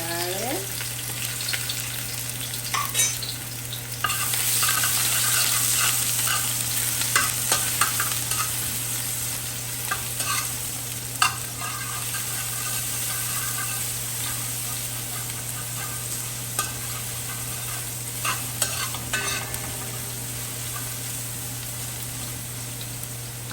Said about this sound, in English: Okay, so I'm going to fry up my ingredients.